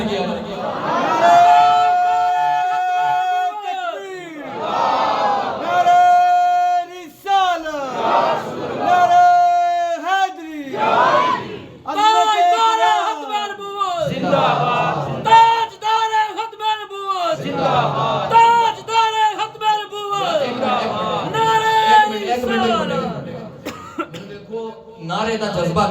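Crowd chanting religious slogans at a Quran completion sermon, repeated loud call-and-response bursts from many voices in a rhythmic pattern, each shout rising and falling with short gaps between.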